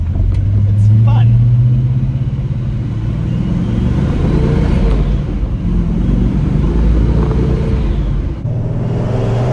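A rebuilt 1961 Studebaker Hawk's engine pulls hard at full throttle, a loud steady low rumble and drone heard from inside the car, with a voice talking over the engine noise.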